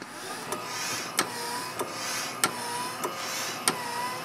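A Harvard Apparatus dual phase control respiratory pump runs with a steady mechanical whir, punctuated by regular sharp clicks about every 0.6 seconds, fairly quiet and close, with no talking.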